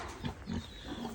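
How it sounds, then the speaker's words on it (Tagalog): Native pigs and their newborn piglets grunt low and close, in a run of short, muffled snorts over a steady, noisy background. "Meron na po sila mga piglets."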